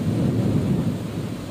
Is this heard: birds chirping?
no